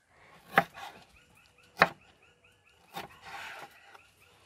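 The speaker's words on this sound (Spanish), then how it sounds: "Lo voy a cortar así en cuadritos." A knife chops a tomato into small cubes on a board with three distinct sharp chops about a second apart, close and clear, followed by a softer scraping sound.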